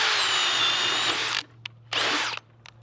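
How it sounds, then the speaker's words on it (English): A Ridgid Octane 18-volt drill boring a half-inch hole runs in two loud, close bursts of high-pitched motor whine, the first longer, with brief quiet gaps and small clicks between them. "we're going to start with the 1/2 inch on the octane 18 volt drill and see how it does."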